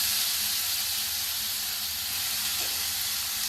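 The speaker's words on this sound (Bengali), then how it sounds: "এবার আমি এখানে সবজিগুলো ভেজে নেব" Vegetables for a veg momo filling frying in hot oil in a pan, giving a steady, close, unbroken hiss that holds at an even loudness throughout, with no talking.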